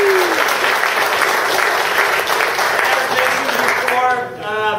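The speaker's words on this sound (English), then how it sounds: "I just want to give a quick round of applause for our awesome speaker" Audience applause for a speaker at a tech conference talk, a sustained even clapping from a room of people that fades near the end, with a voice briefly emerging.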